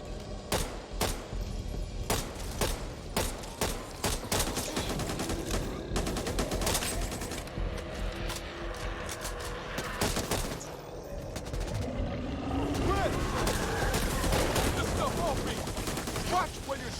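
Rapid gunfire in the co-op shooter Back 4 Blood, dense bursts of close automatic shots cracking steadily, easing off near the end while a voice talks underneath.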